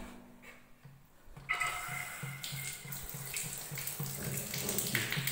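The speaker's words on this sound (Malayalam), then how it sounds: "വെള്ളം ഫുള്ളായിട്ട് വരുന്നുണ്ട്." Water gushes at full flow from a Jaguar concealed flush tank connection after a leak repair, starting suddenly after a quiet moment and running steadily over a faint rhythmic thumping in the background.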